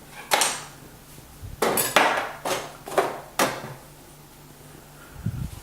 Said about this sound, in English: So I'm going to scrape down the sides of the tin.